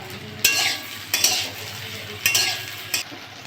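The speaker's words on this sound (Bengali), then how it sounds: "সয়াবিনগুলো ভালো করে ভেজে নেব সব।" Soybean chunks frying in a pan, a steady sizzle broken by four loud bursts of stirring and scraping, close and clear with no talk.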